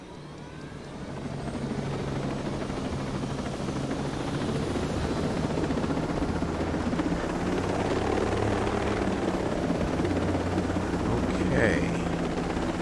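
Steady, loud helicopter rotor thump and engine drone in the video game Ghost Recon Breakpoint, fading in over the first second and continuing without a break.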